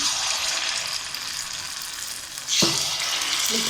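Rava paniyaram semolina batter poured into hot oil in a paniyaram pan: a steady low sizzle that swells abruptly into a louder, bright crackling hiss as the batter hits the oil, with no talk.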